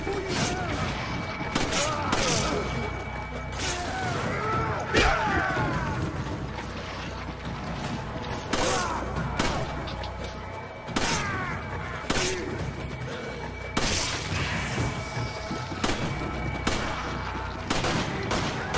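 Gunfire and a grenade blast ring out in the video game Resident Evil 5 at an oil field, with steady loud shooting in bursts and sharp bangs while players talk over the action.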